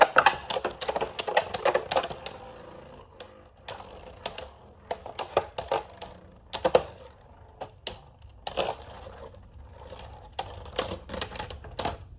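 Beyblade spinning tops battle in a stadium with rapid, sharp clicking clashes that come in irregular bursts, close and fairly loud, with no voices.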